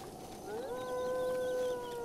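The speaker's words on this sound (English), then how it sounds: "Oh my god, these dogs." Dogs in the video game The Legend of Zelda: Breath of the Wild let out a sustained howl that slides upward and then holds steady, fairly faint with no talking.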